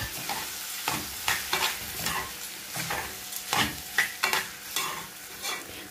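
Rice being stirred in a frying pot, a series of scraping, rustling stirs with a soft sizzle underneath, repeating every half second or so at close range with no voices.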